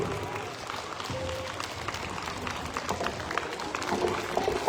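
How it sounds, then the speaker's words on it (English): An audience at a school sports awards event claps steadily at moderate volume, with a voice speaking briefly over the crowd. "Clapping should not be stopped"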